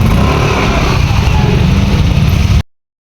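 A motorcycle loaded with shopping bags runs as it pulls out of a parking lot, a loud, steady engine drone close to the microphone that cuts off abruptly near the end.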